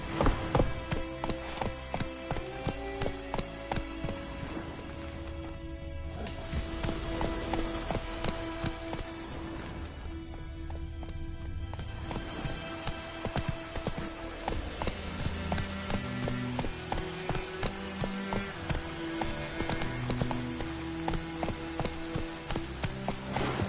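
In the Witcher 3 video game, the horse Roach gallops with quick, rhythmic hoof clops over a busy mix of background game sound and music, steady throughout with brief dips in the texture.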